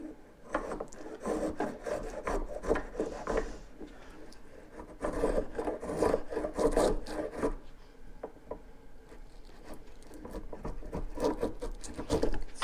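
A Harbor Freight hand plane cuts pine in a run of repeated rasping strokes, each pass a rough scraping shave with slight digging, steady and close, with no voices.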